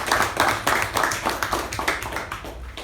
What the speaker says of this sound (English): Please give Sharanye a round of applause.